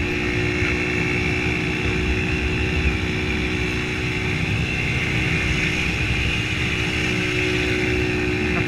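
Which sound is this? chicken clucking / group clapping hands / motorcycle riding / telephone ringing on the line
motorcycle riding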